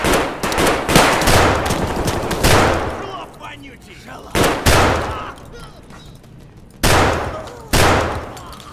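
Rapid gunfire bursts from Escape From Tarkov, loud and close, with several sharp volleys spread across the clip and short quieter gaps between them, and a voice talking over parts.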